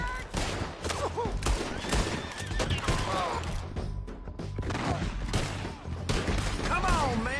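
A Red Dead Redemption 2 gunfight, with dense volleys of close, loud gunshots and rapid fire overlapping shouted voices throughout.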